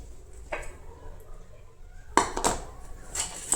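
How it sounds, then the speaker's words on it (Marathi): A baked egg cake is worked loose from its metal pan, giving a few sharp clanks and knocks of tin against tin, with quiet rustling between them. "त्याला आपण डिमोल्ड करून घेऊया."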